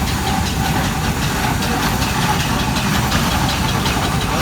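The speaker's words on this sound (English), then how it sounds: "Great to see this wonderful engine." A vintage steam ploughing engine with its winch runs at a fair, giving a loud, steady chuffing and hissing churn with a rhythmic mechanical knock throughout.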